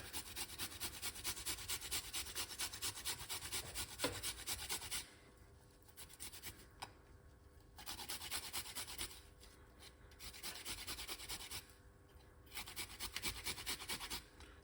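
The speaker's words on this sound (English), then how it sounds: "Then we're going to get a nice piece of a ginger. And a simple grate." Fresh ginger scraped against a simple hand grater, a steady run of close, dry rasping strokes that pauses briefly twice before the grinding resumes.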